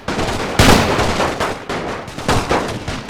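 Musket volleys from a Napoleon: Total War mod with custom weapons and near-zero reload time crack out in dense, overlapping bursts. Rolling gunfire fills the whole stretch, loud and continuous, with stronger peaks at intervals.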